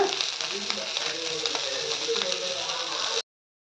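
Rava-coated fish fries in a pan with a steady, close sizzle and crackle that runs evenly, then cuts off abruptly.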